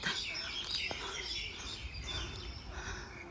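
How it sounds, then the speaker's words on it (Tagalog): Many birds chirp and sing at once in a busy outdoor chorus around a kapok tree in Yuen Long, Hong Kong, with overlapping tweets and calls over steady background noise. "Ang daming ibon umaawit."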